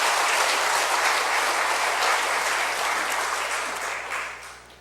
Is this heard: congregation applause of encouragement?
yes